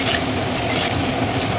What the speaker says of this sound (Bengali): এটা ভাজা ভাজা করে মজিয়ে নেবো, যে এখন এটা ভাজা ভাজা করবো